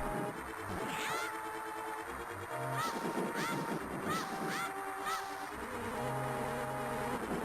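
Bee buzzing in the video game Zelda: Four Swords drones and swoops past repeatedly over a quiet synthetic background, with occasional soft tonal notes, no voices.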